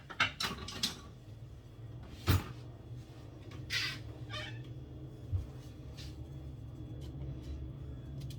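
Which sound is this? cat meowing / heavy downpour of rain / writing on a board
cat meowing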